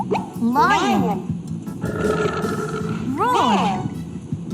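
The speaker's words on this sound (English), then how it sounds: "A lion makes a roar sound." A lion roars twice, each a loud, rough call that sweeps up and then falls away, with a lower growling rumble between the two calls.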